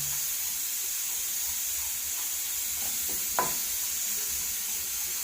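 Spices frying and sizzling in a hot pan for a roasted-coconut beef curry, a steady close hiss with a brief stirring scrape partway through.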